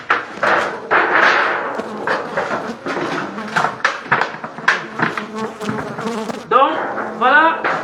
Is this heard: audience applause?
no